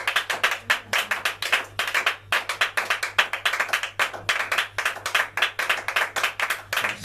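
A church congregation claps in unison, with steady rhythmic bursts of many hands repeating a few times per second for several seconds. Under the clapping runs a low, constant hum.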